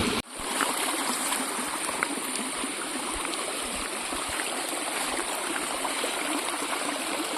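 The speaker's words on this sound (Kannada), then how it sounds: "ನಮ್ಮನೆ ಸೊರಂಗದ ನೀರು." Water gushes steadily out of a tunnel spring at a house during the rainy season, a dense continuous rushing flow heard close and alone after a brief knock at the start.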